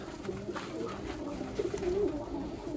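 Domestic pigeons in a loft coo softly in low, rolling burbles, close and fairly quiet against a faint background hum.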